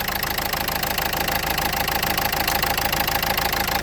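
A 1.5 dCi diesel engine in a Renault Scenic III runs rough with one injector cable unplugged, idling in a steady, dense, knocking clatter at a constant level, close and loud, with no voices.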